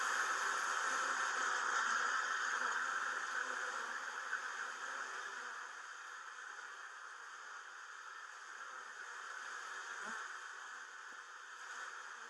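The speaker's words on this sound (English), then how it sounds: "Bees." A swarm of bees buzzing in a steady, dense drone that holds at an even level throughout, slightly fading after the first few seconds, with no voices.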